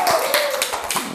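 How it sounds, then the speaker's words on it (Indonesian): A class claps hands in a short, close burst of quick overlapping claps. "tepuk tangan dulu semuanya."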